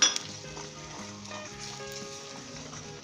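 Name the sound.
ginger garlic paste and spices frying and being mixed in a pan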